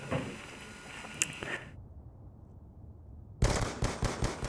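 Rapid automatic gunfire in a video game pickup match: a dense, loud burst that cuts off after under two seconds, a near-silent pause, then another sharp volley of shots at the end.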